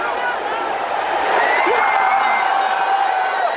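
A large arena crowd at the Royal Rumble wrestling event roars and cheers loudly and continuously, with shouts and whoops in the dense wash of noise.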